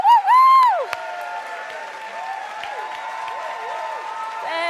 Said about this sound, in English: Keep that applause going for our beautiful technicians, sound, lights, everything, cameras